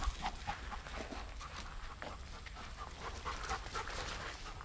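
A dog pants rapidly while playing with a ball, quick breathy huffs with a few faint whimpers over a low background rumble, fairly close.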